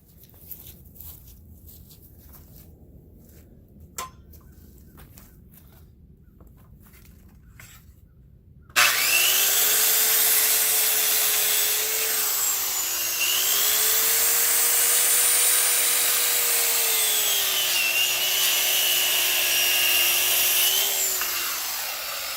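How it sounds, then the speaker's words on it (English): A Skil circular saw cuts lumber for a sign stake, starting abruptly after quiet and whining loud and close for about fourteen seconds, its pitch dipping as the blade bites the wood. "Let me grab a skill saw real quick."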